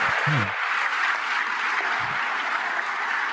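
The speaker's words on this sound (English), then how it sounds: "They're jumping up and down. They're applauding each other." Audience applause follows a baseball team's celebration, a steady wash of clapping held at an even level throughout, with a brief low voice near the start and another around the two-second mark.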